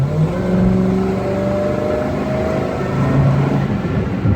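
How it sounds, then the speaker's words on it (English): A 1974 Buick Century with a two-barrel carburetor pulling at around 45 mph, its exhaust giving a steady, throaty rumble from the rear as the engine drones on under acceleration. "The exhaust making some noise out of the back, which sounds awesome."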